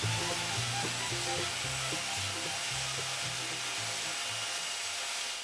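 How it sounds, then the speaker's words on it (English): Electric sander working foam for DIY hydrofoil pontoons, a steady close buzzing drone with uneven rubbing texture running throughout, loud and continuous with no talk. "It turns out to be easier to hold the foam instead of the sander."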